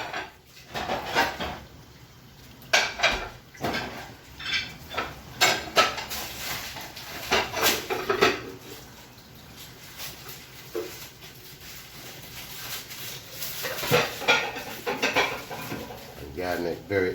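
A utensil stirs garlic and chicken in a metal cooking pot, giving repeated irregular scrapes and clanks that come and go close by, while people talk over much of it.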